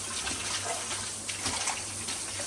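Tap water runs steadily into a sink while karpooravalli leaves are rinsed by hand, a continuous close splashing wash with soft irregular spatters.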